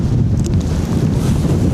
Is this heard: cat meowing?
no